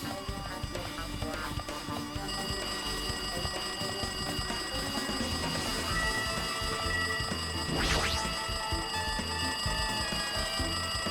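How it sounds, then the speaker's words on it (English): In the Danganronpa video game, a phone rings like an old-fashioned alarm clock, a continuous rattling bell that runs throughout over a dense backdrop of game sound, with no talking. "It looks like that phone is ringing."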